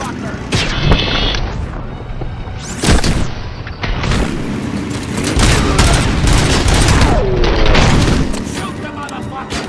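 Heavy gunfire and booming shots in RoboCop: Rogue City, with repeated loud blasts and whooshing bursts over about ten seconds amid a chaotic firefight, with voices shouting underneath.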